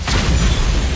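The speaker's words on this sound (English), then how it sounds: "Destroyed a turret!" An explosion as a turret is destroyed in the Mobile Legends mobile game, a dense one-second burst of low booming energy with a bright crackle, loud and close.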